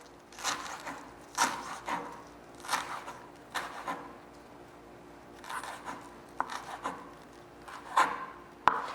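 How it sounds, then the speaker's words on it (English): Curly parsley is chopped finely with a knife on a wooden board, giving about a dozen crisp, uneven thuds in loose bursts, close and fairly quiet, with no talking over them. "you're just going to chop this up relatively fine"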